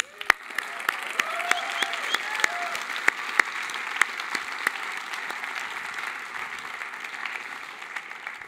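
An audience at a public talk in Tucson, Arizona, claps in a thin, scattered round of applause, with sharp individual claps standing out over a soft crowd wash, a few voices faintly mixed in.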